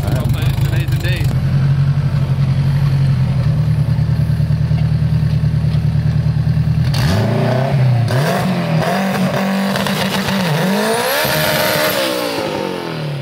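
A Josh Stevens race car with a K-series engine idles with a loud, steady, rough burble, then revs hard in several rising and falling bursts at close range.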